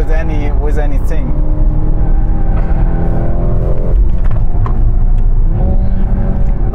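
A Mercedes C63 S E Performance driven in Sport Plus mode with ESP fully off: its engine rumbles and rises in pitch through the revs, heard from inside the car beneath ongoing conversation.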